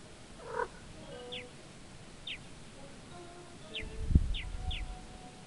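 Low, soft cat purring in an indie video game, swelling near the end over a quiet ambient background, with faint high chirps scattered throughout.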